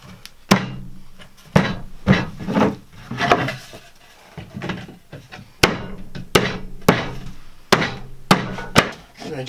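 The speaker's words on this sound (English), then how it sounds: "You knock it into place." Sharp hammer blows knock a wooden part of a patterned plywood floating bedside unit into place, loud and close, coming in irregular clusters of two or three knocks with short pauses between them.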